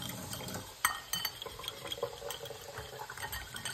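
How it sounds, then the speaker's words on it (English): A whisk clicks and swishes through cornstarch and tap water in a bowl for an apple turnover filling, giving close, quiet, irregular scraping and light liquid stirring sounds with no talking. "I'm just going to whisk it together until there's no lump in it."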